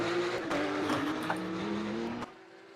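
Race car engine of an NSX in a Porsche Cup racing video game on the Marina Bay Singapore circuit, a loud sustained droning whine with shifting pitch that drops away abruptly near the end.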